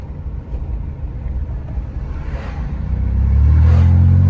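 Motorcycles approach from a distance and grow into a loud, low engine roar with rising revs near the end, heard outdoors on public hunting land with no talking.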